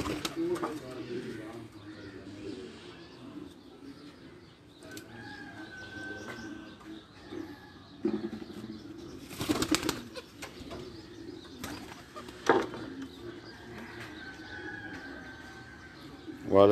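Pigeons on a rooftop during morning flights give soft, low coos broken by sharp bursts of flapping wings. The sounds are faint and scattered, with someone talking over them.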